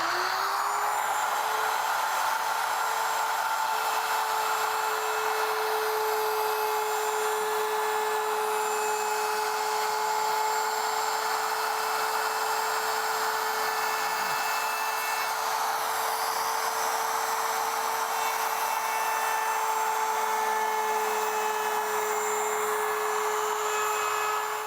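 A router fitted with a roundover bit shapes the loom of a wooden Greenland paddle, giving off a continuous high whine that stays steady and close for the whole stretch, with no talking.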